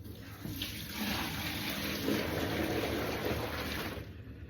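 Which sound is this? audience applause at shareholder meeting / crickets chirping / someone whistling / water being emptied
water being emptied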